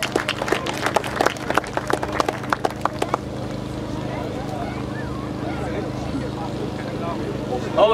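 Audience applause at the Dumfries Motor Show awards ceremony: scattered, fairly close claps during the first three seconds, thinning out into steady room murmur, with voices talking underneath.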